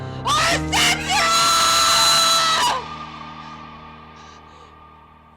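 A voice actor's anguished, drawn-out scream in a Bendy comic dub, two sharp bursts followed by one long high wail that breaks off and fades into a ringing echo.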